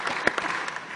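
Brief applause after an oath of office is sworn at a council meeting, a dense patter of many hands clapping at a steady level for about a second.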